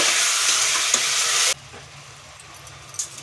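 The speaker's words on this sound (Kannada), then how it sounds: "ಮಟನ್ ಎಲ್ಲ ಹಾಕೊಂಡ್ಮೇಲೆ ಎಣ್ಣೆಯಲ್ಲಿ ಫ್ರೈ ಮಾಡ್ಕೊಳ್ಬೇಕು" Mutton sizzling loudly in hot oil for a mutton curry, a dense steady frying hiss that cuts off abruptly partway, leaving only faint kitchen background with a small clink near the end.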